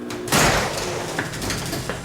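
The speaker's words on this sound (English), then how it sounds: "open the garage door" A car garage door starts opening with a sudden loud clunk, then a continuous mechanical rumble and rattle as it travels, close by with no speech.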